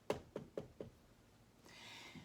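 Four quiet, evenly spaced knocks on a front door, close and alone, followed by a soft hiss of background noise.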